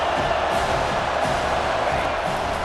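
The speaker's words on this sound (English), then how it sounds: "Here comes this home crowd as the defense tries to get off the field on 3rd down." Home crowd roaring steadily in a college football video game stadium on third down, a dense, continuous wash of cheering throughout without clear peaks.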